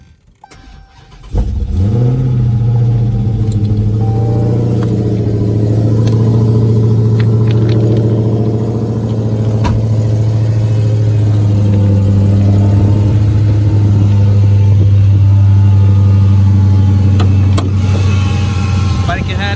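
A salvage Dodge Challenger Hellcat V8 cranks and fires up, settling into a loud, deep, steady idle with some swelling revs for the rest of the span, heard close up, with a person talking over it.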